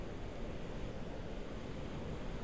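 Ocean surf rolling onto a shore in a wave-energy setting, a steady broadband wash of breaking waves with a wind-blown rumble, continuous and fairly loud throughout with no voices.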